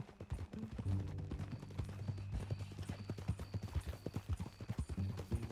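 Horse hooves clip-clop steadily at a walking rhythm in the Western video game Red Dead Redemption 2, close and moderately loud with even repeated thuds throughout.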